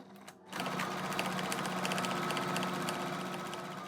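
A sewing machine stitches lines through felt to form pockets, starting after a brief pause and then running in a steady, close, rapid mechanical whir to the end.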